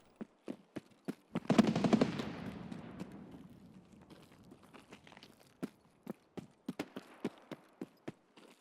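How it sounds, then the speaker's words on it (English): Distant gunfire from other players in a shooter video game sounds as a steady series of faint sharp pops, with a louder rumbling blast partway through, heard with no talk. "That sounds like them just popping shots."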